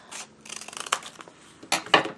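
Scissors snip through paper in a few quick cuts, with soft paper rustling between them, close and fairly quiet, no speech.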